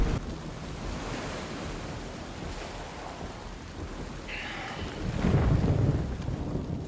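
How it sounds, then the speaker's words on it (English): Thunder rumbles over crashing ocean surf during a stormy scene in The Last of Us, with steady wind and wave wash throughout and a louder rolling surge near the end. "Love the thunder."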